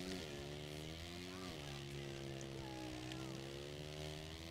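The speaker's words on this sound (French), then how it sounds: "Écoutons le bruit de la 4 temps." A four-stroke motocross bike engine in the racing game MX vs ATV All Out drones steadily and loudly, holding a sustained tone with small pitch shifts as the throttle rises and falls.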